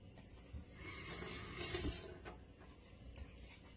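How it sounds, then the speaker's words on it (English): Tap water runs into a sink while fingers are rinsed under it during apple cider vinegar making, a soft steady splashing stream lasting a few seconds with slight swells. "Rinsing my fingers off."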